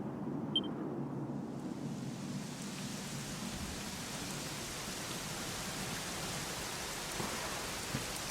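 Steady heavy rain from the video game Dragon Quest XI pours throughout, a dense even hiss with a low rumble beneath, constant and close, with no voices.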